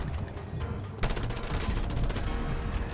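Rapid assault rifle fire in a video game crackles in a dense, continuous burst that swells after the first second and keeps rattling steadily to the end.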